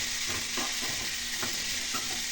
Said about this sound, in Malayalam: ഇതിലൊന്ന് ചേർത്ത് കൊടുത്ത് നന്നായിട്ടൊന്ന് വഴറ്റിയെടുക്കാം